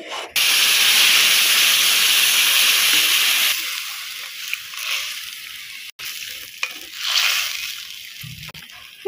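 Spices crackle and sizzle in hot oil for a vegetable curry of pumpkin greens, stalks, eggplant and potato, a loud steady hiss at first that drops after a few seconds into softer intermittent sputtering.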